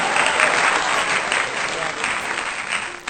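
Sustained audience applause at a Haitian performance about a husband and wife, a dense wash of clapping at steady loudness for a few seconds, with no voices standing out.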